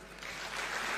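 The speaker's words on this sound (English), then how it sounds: "Let's give him a warm thank you clap" Audience applause swelling after a formal address at an African Union fertilizer and soil health summit, a dense, steady wash of many hands growing slightly louder with no voices over it.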